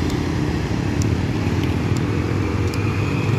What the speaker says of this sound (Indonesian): Cahaya Kembar Jaya dengan sasis 1626-nya dan body Evolandernya guys, melintas di Bundaran Lambaru menuju Kota Medan guys